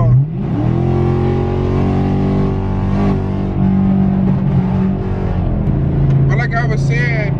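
A Chevrolet Camaro 2SS in the racing game Roll Racing, its engine droning loud and steady with rising harmonic tones as it accelerates, while a voice talks over it throughout.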